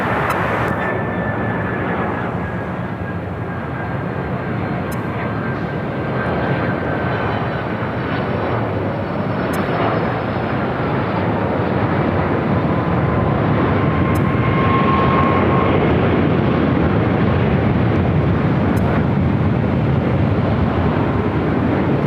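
A 24-year-old Delta Air Lines Boeing 767-400ER heavy jet arriving at Los Angeles International Airport, a loud, steady engine roar that builds gradually over about twenty seconds, with wind buffeting the microphone.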